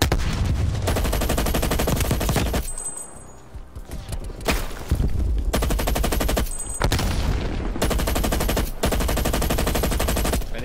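Rapid automatic gunfire from a video game weapon, loud, dense bursts lasting several seconds each, broken by a couple of short pauses, with little else beneath the shooting.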